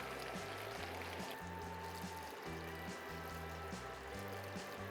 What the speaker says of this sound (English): Now, chicken stock.